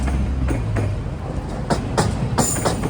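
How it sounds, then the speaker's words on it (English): A train passes near Milton, Toronto, a low rumbling roll broken by rhythmic clicks and clacks as cars cross rail joints, moderately loud and close. "Got a specially wrapped car on this train"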